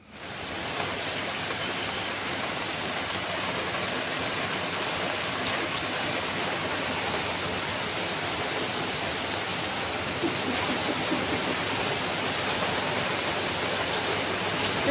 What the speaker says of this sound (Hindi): कितना तेजी से बारिश हो रहा है।